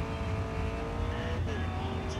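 A race car engine in Grid Racing Sports on iPad drones at steady high revs, with a brief tire squeal near the middle and no voices.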